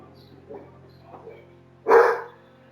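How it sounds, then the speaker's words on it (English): A pet dog indoors gives a couple of soft low woofs, then one loud, close, sharp bark near the end, over a quiet steady hum. "It's my dog."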